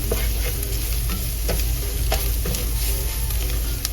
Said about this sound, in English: turn down your heat to fry down this masala so they don't get burned